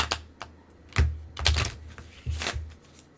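A deck of tarot or oracle cards is shuffled by hand in short crisp bursts of flicking and riffling, about six clusters over a few seconds, close and fairly quiet.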